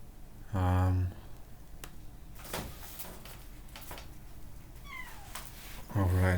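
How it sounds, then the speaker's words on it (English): A house cat meows indoors, two loud, close calls, one near the start and another at the very end, with quiet room noise and a few faint clicks in between. "the cat is meowing"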